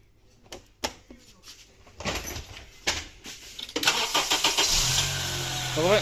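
A car engine starts after clanks and knocks from work on the power steering fluid, cranking briefly and then catching into a steady idle that holds until the end, close by, with voices talking around it.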